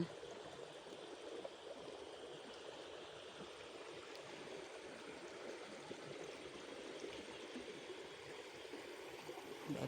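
Water rushes without a break down a small stream over rocks in Laos on its way to the Mekong, a steady broadband murmur that swells slightly near the end, with no talking.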